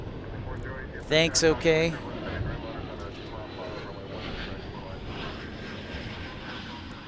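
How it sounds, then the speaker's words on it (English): An Ameriflight Embraer propeller aircraft at DFW airport gives off a steady, broad droning roar that holds for several seconds, after a short burst of nearby conversation at the start. "It looks like another Embraer from Ameriflight."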